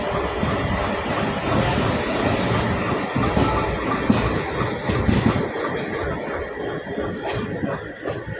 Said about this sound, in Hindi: हमारी ट्रेन प्लेटफॉर्म संख्या 1 पे यहाँ पे अराइव कर रही है